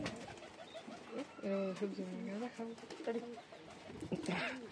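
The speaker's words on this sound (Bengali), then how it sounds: "এটা টাল কবুতর" Pigeons coo in a Bangladeshi village, their soft, rolling calls close by and repeated, while people talk over them.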